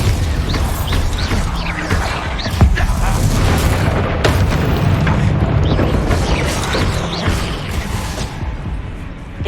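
Booming spell explosion from Hogwarts Legacy gameplay, a Bombarda blast amid a loud, continuous barrage of bursts, crashes and rumbling impacts, with a voice shouting spell names over the din.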